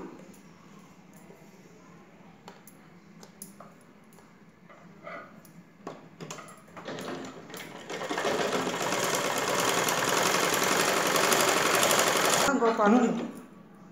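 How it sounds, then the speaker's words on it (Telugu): A sewing machine stitches blouse and lining pieces together. It opens with scattered clicks and short bursts under a quiet voice, then settles into a steady, loud whirring run that stops abruptly near the end. "ఇంకో పార్ట్ను స్టిచ్ చేస్తున్నాం."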